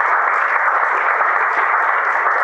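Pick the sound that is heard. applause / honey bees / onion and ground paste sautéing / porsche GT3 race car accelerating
applause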